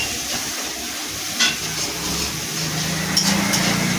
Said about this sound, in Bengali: ভালো করে নুনটার সঙ্গে এটা ভালো করে ভেজে নেব।